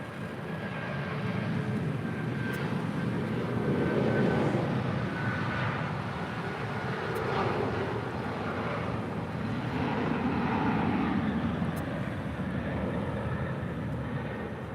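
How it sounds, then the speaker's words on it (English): A 28-year-old United Boeing 757-200 bound for Washington Dulles departs LAX with a continuous broad engine roar that stays fairly even, rising gently and then holding as the jet climbs away. "This is United 2282 departing to Washington Dulles."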